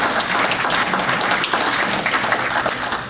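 Audience applause following a speaker's introduction at an emotional intelligence talk, steady dense clapping from a crowd filling the room at close range, loud and continuous throughout.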